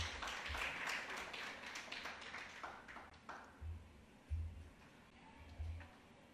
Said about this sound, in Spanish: Por favor, démosle un aplauso a Nuria Querol.